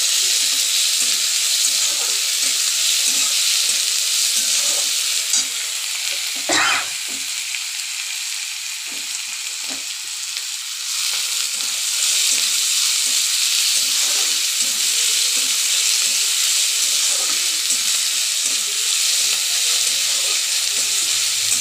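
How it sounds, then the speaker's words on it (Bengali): Chopped capsicum and minced garlic stir-fry in a hot pan, giving a loud, steady sizzle broken by the rhythmic scrape of stirring throughout, with no talking. "পরপর করে আমি এই উপকরণগুলো দিয়ে নেড়ে নেব"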